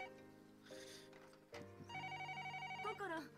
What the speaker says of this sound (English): Phone's ringing. The phone! The phone is ringing!